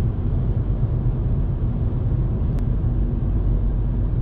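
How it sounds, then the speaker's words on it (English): Road noise inside a 2019 Volkswagen Polo 1.0 TSI while driving, a steady, dense low rumble filling the cabin throughout, with no talking. "The only negative I can really find is maybe the road noise."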